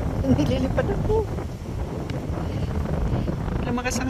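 Strong wind buffets and roars across the microphone in loud gusts beside the Hutt River in Lower Hutt, New Zealand, with a few indistinct voices breaking through.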